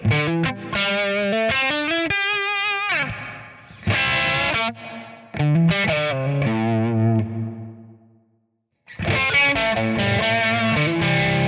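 Electric guitar through an amp modeler with ducked reverb plays distorted chords and phrases, the reverb tail swelling in during pauses before the playing resumes, loud with no talking.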